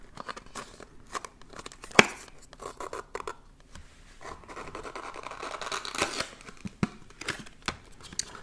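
Close crinkling, tearing and snipping as a Blissim advent calendar box is opened, with a sharp cut near the start and a steady run of paper and cardboard rustles afterward.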